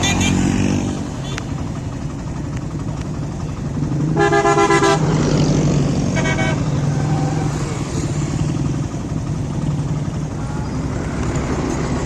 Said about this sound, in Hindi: अभी तमाम जो बाइक्स हैं वो कैंपिंग पॉइंट की तरफ मुड़ रही हैं।